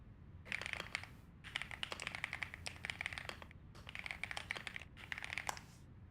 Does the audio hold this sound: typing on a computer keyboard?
yes